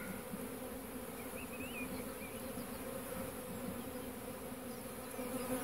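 Many honeybees hum in a steady, dense drone close by at an apiary hive, the buzzing continuous and even throughout with no voices.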